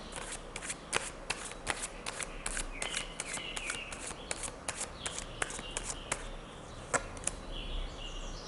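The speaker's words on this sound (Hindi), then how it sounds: "एक और कार्ड लेते हैं." Tarot cards being shuffled by hand to draw another card, giving a steady, soft, close riffling with sharper flicks and taps scattered throughout, with no talking.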